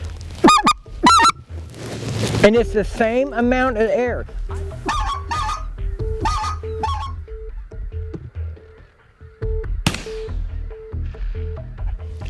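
Hand-cupped goose call blown to mimic specklebelly geese, sounding as a run of sharp honks and yodeling clucks, loud and close, with a brief spoken remark between calls.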